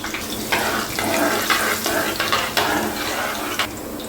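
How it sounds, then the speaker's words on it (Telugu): Green chillies, cumin and mustard seeds sizzle and fry in hot oil in a pan for an egg curry, a steady close crackling hiss with bursts as ingredients drop in and are stirred. "కొద్దిగా ఆయిల్ వేయడవగానే మనం కట్ చేసి పెట్టుకున్న పచ్చిమిర్చి వేసుకుందాం."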